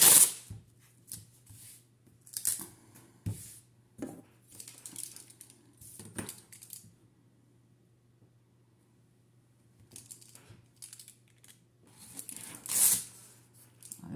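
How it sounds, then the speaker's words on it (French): Adhesive tape pulled and pressed onto a handmade desk organiser, giving several short, close crackly tearing and smoothing bursts separated by quiet gaps, over a faint steady hum. "on va venir mettre du scotch ici"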